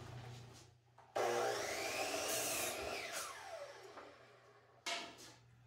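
A table saw rips wooden strips for a home-built craps table, one loud sustained cut running close by with a whining blade and a brief second pass starting near the end.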